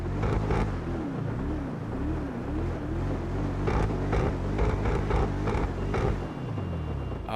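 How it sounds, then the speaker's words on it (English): A Bentley-styled Paragon R sports car revving in GTA 5 Online, its engine note rising and falling in wavy swells. The drone is loud and continuous, with no talk over it. "As for the way the car sounds,"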